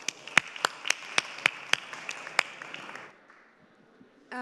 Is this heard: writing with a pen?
no